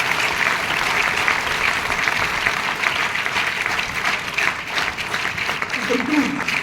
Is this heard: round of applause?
yes